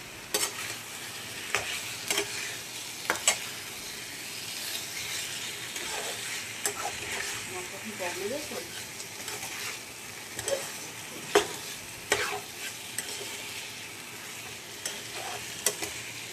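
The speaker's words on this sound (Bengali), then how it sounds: "এর সাথে মাংসটা দিয়ে দিলাম। মাংসটা ততক্ষণে কষতে থাকবে মশলার সাথে।" Meat frying with spices in a pan makes a steady low sizzle, with sharp clicks and scrapes from stirring scattered throughout, close by and unaccompanied by speech.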